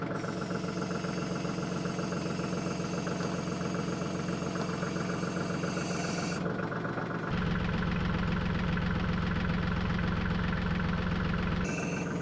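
Tractor engine running steadily as it backs up with a backhoe attachment mounted, a continuous loud idle-like drone with knocking vibration that deepens and strengthens midway before easing near the end.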